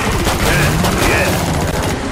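Rapid, dense bursts of gunfire crackle continuously, loud and close, a sustained firefight in the shooter game Killing Floor 2, with a voice faintly underneath.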